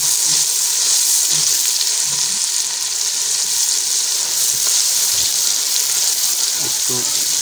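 Tomatoes, onions and garlic-ginger paste fry in a pan for vegetable pulao, giving a steady, loud, close sizzle that runs throughout with faint stirring scrapes underneath.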